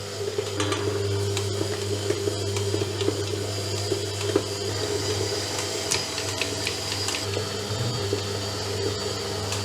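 A mixer kneads pizza dough with a steady, droning motor hum that runs unbroken from start to finish, with a faint rattle on top and no voices.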